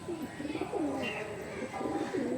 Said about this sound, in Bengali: প্রথমে একটা মুচি পায়রা থেকে শুরু করছি